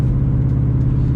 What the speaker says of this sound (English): Holy fucking RX-8 ripping.